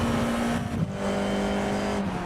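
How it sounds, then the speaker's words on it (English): Formula 4 race car in iRacing on the Portimao circuit, four-wheel drifting through a corner: a steady, loud engine drone with a sustained tire scrub, continuous and close throughout. "Car is four-wheel drifting through that corner"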